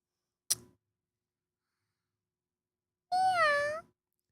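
A human voice imitates a sad cat meow: one drawn-out, wavering mew that slides and sags in pitch, coming after a brief click and a long silence, close and clear with no talk over it.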